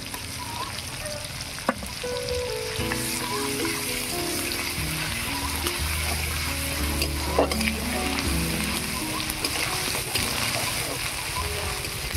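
Chopped onion and ginger-garlic paste fry in oil in a pan that already holds a dried red chili and nigella seeds, a continuous close sizzle with splattering and stirring scrapes, while background music plays beneath.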